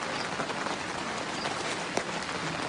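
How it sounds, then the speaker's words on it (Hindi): Heavy rain pours steadily, a close, dense hiss of drops drumming on surfaces with no letup, with no voices. "बारिश और तेज हो गई है"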